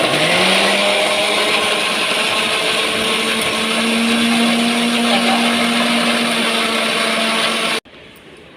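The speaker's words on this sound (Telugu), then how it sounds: "ఇప్పుడైతే మిక్సీ పట్టుకుంటున్నాము" A mixer grinder whirs steadily at high speed, blending fruit pieces with sugar for juice. The loud continuous motor whine rises slightly in pitch early, then holds before cutting off abruptly near the end.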